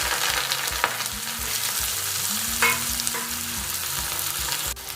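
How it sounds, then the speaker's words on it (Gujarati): Tanjariya (spinach-like) leafy greens sizzle and crackle steadily in a hot pan with turmeric, with a few sharp clinks of a spoon stirring against the metal. "કટ કરીને રાખેલી સાંજરિયાની ભાજી એડ કરીશું"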